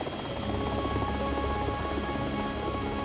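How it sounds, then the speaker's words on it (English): A helicopter in flight, a constant loud rotor and turbine drone holding steady throughout with no pauses. "I'm in a chopper chasing that runaway."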